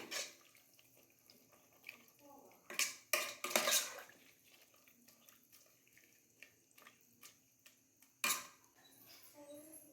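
Water pours into a pressure cooker holding field beans and fenugreek leaves in a home kitchen, quiet splashing bursts with clinks of a vessel, mostly faint with a few louder pours.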